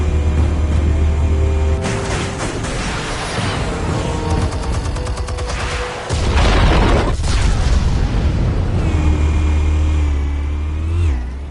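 Heavy explosive detonations in a Batman Telltale scene: deep rumbling booms with crackling debris, swelling twice over a sustained low roar, loud and close with no talking.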